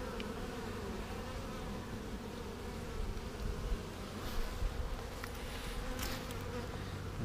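Honeybees buzz at a hive entrance in spring, where weeds flower in front of the hive. The buzzing is a steady, soft drone with occasional louder passes of single bees nearby.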